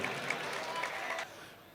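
A crowd at an Indian poetry gathering claps in a brief, moderately quiet burst of applause that tapers off near the end.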